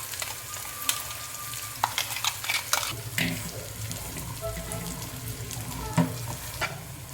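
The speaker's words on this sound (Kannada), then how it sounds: "ನಾವು ರುಬ್ಬಿಟ್ಕೊಂಡಿದ್ವಲ್ಲ ಮಸಾಲೆನ ಅದನ್ನು ಈ ಒಗ್ಗರಣೆಗೆ ಹಾಕ್ಕೊಳ್ಳೋಣ." Ground masala paste fries in hot tempering oil for a mixed vegetable kurma, giving a steady sizzle broken by stirring clatters and scrapes at close range.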